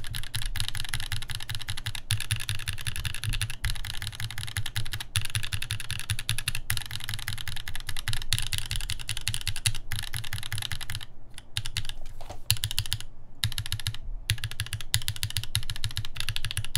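Rapid, steady typing on a mechanical keyboard fitted with lubed NK Cream+ switches and titanium inserts, an Alchemy AL.6 build; dense, continuous clacking close up with no voices, briefly pausing near the end.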